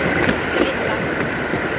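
A trolley rolling along rails, a steady close rumble with faint periodic clicks from the wheels, continuous and moderately loud.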